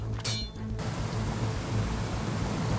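Steady rain in the video game DayZ, a dense, even hiss of falling drops that swells in after a brief quieter moment and then continues unbroken.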